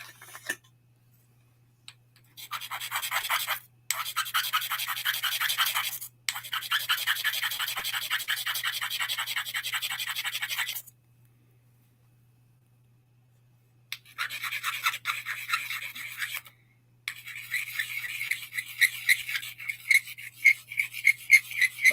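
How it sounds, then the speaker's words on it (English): Rough, rasping grinding of a glued-in thrift-store part being shortened, in several sustained bursts separated by brief silences, close and loud with no talk. "This is a little long, so I would have to grind that down."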